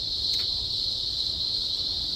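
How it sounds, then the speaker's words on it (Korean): Cicadas on a mountain near Sydney keep up a steady, high, unbroken drone, moderately loud and constant, with no talk over it. "매미 소리도 나고"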